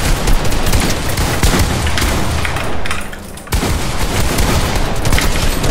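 Loud, dense video game gunfire from a first-person shooter, with rapid overlapping shots and booms running almost continuously, dipping briefly midway before resuming at full intensity.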